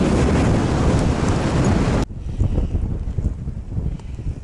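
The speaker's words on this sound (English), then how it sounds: "It's got a bit windy." Strong wind buffets the microphone in a loud, roaring rush that suddenly drops to a lighter, gusty blowing.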